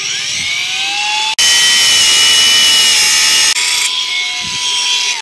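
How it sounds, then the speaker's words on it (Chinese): An angle grinder cuts through 1 cm diameter steel wire rope, a loud, continuous high-pitched whine that rises sharply into a harsher, louder grinding burst midway, then settles back to a steady whir. "用角磨机呢把它切"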